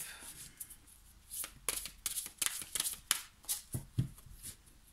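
A deck of cards being shuffled and cut by hand, a quick run of riffling flutters and soft slaps, close and fairly quiet.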